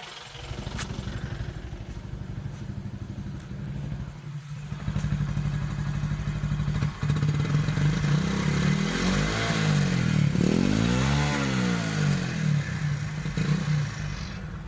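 A motorcycle engine runs steadily throughout, a low rumbling idle that rises into revving, with a clunk partway through and no talking.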